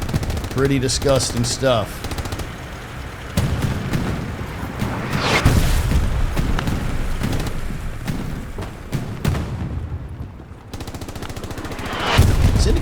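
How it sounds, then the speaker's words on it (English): Chaotic battlefield din from a video game firefight, with bursts of machine-gun fire, scattered rifle shots and heavy artillery booms piling up continuously and loudly, while someone talks briefly over the noise. "how about that artillery?"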